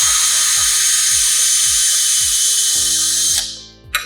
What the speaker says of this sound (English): We drill another hole down here.